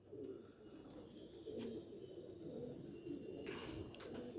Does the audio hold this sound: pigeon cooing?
yes